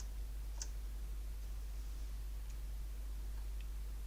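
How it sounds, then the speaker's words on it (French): A single soft computer mouse click lands near the start, then only a steady low hum and faint room noise. "clic droit souris"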